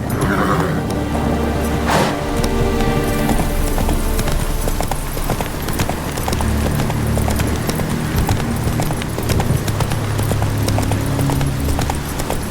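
Roach the horse gallops in The Witcher 3, a loud, steady run of clip-clop hoofbeats lasting throughout, close and continuous over ambient game sound, with a brief whinny near the start.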